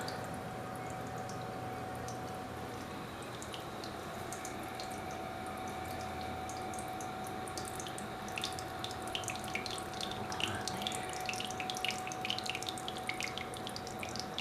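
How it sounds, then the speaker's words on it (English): Steady flowing water trickles and splashes continuously, with a bright bubbling patter growing slightly busier toward the end; no voices. "good sized pond there, a little waterfall"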